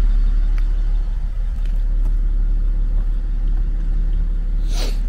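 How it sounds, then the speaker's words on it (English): A 2017 BMW X5 idles steadily through its rear dual exhaust, a continuous low rumble held at an even level for several seconds with no voices, plus a brief faint hiss near the end. "dual exhaust system."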